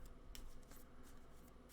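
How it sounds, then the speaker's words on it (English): A deck of Yu-Gi-Oh trading cards is shuffled in a quick riffling burst of soft, papery flicks, faint and close with no talking. "But we're going to shuffle here."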